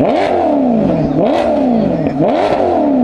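A Maserati MC20 sports car engine revs hard three times in quick succession, pitch climbing and dropping with each loud, close throttle blip.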